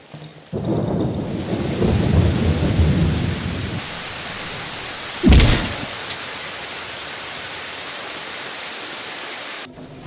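Heavy rain pours in the video game Darkwood with a deep rolling rumble, then a sharp, loud thunderclap strikes midway before the downpour settles into a steadier hiss.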